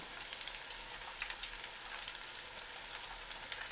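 Beer-battered catfish fillets fry in hot oil, giving a steady, soft crackling sizzle that runs on evenly with no voices.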